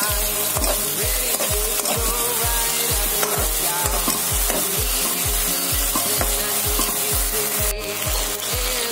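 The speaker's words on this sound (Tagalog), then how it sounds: "ilagyan natin ang pamintang durog at haluin natin" Tofu being stirred with ground black pepper in a pan, a loud continuous sizzle broken by rhythmic, regular scraping strokes of a utensil against the pan.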